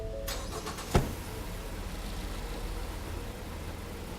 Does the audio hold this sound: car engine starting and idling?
yes